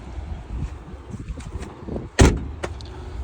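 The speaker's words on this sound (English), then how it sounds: "Let me close that door." A car door slams shut once in a junkyard, a sharp loud thud over low background rumble, followed by a fainter clunk a moment later.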